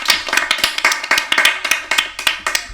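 A few people clapping in a small room, crisp close-up claps in an uneven rhythm, quick bursts without any talking.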